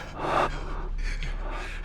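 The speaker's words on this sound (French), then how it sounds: "J'entends la respiration du caméraman." A cameraman breathes heavily in the horror film REC (2007), with close, breathy gasps and pants over a low, steady background hum and no talking.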